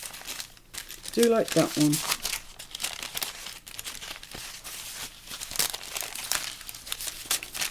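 Paper pieces for a grunge junk journal shuffled and crinkled by hand, rustling bursts close up, with a brief spoken remark over the crinkling.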